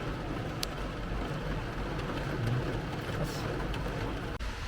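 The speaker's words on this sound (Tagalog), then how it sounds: "Sobrang lakas ng ulan." Heavy rain pours steadily in an outdoor street in the UK, a dense, continuous hiss with a low rumble underneath, close and loud throughout with no voices.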